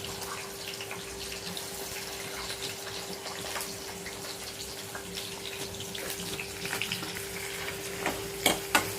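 Chopped onions dropped into hot oil for a bitter gourd dish, giving a steady low sizzle and bubbling with a faint hum, ending in a few sharp clacks of a utensil on the pan.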